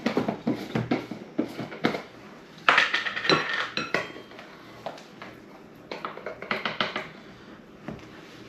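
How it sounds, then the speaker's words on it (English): Flour is stirred by hand into a homemade bird suet mix in a bowl, giving close, steady clinks and scrapes of a spoon against the dish in a quick uneven rhythm. "Okay, stir the flour."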